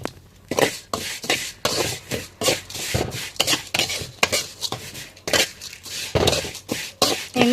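White vermicelli being roasted in ghee in a pan, with a spoon repeatedly clattering and scraping against the metal in a quick, steady stirring rhythm, loud and close.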